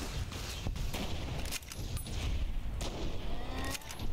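A grenade blast in Fallout New Vegas bursts out amid sharp repeated impacts, loud and near, with a fight against young Cazadores going on around it.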